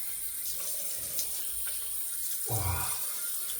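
Tap water runs steadily into a sink while a safety razor (Razorock Daily Groove with barber pole handle) is rinsed, with a brief louder gush of splashing near the end.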